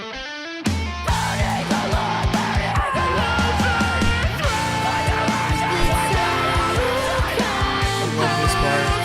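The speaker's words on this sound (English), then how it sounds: "could you play the full trade-off section again with me and Sierra? Like with all the screams" A band song's trade-off section plays loud and dense, with vocal screams over full drums, bass and guitars after a brief quiet start, continuous for about nine seconds.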